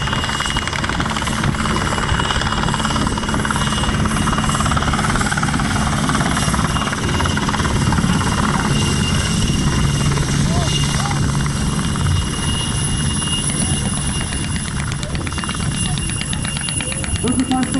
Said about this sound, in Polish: specjalną osłonę dla lądującego śmigłowca